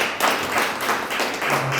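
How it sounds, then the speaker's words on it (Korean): A church congregation claps together during a Korean service in Mexico, a fairly soft, even patter of many hands lasting a couple of seconds with no talking. "박수로 하나님께 영광을 올려드리겠습니다."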